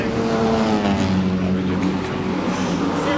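A 2017 Honda Civic with a 2-litre four-cylinder engine being driven hard up a hillclimb course, a loud continuous engine roar holding high revs close by throughout.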